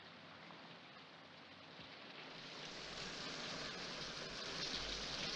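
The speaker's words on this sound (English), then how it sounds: "It has begun raining again." Steady rain pours down in a continuous broadband hiss that grows slightly louder and denser over several seconds, with no voices present.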